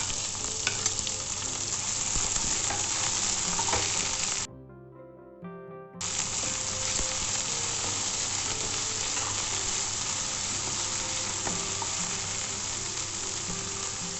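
Chopped onions frying for uttapam, a dense steady sizzle with stirring scrapes that runs close and continuous, broken by a brief quieter gap partway through.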